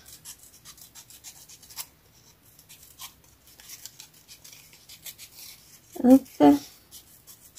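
Scissors cutting around a paper cutout for a scrapbook page, faint scattered snips and rustling paper, then two louder close crunching cuts near the end, with a brief spoken word.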